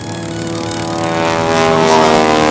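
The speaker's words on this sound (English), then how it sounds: "It's a beautiful 450 horsepower Stearman." A 450 horsepower Stearman biplane flying aerobatics at an air show, its radial engine and propeller droning loud and steady, swelling louder as it nears.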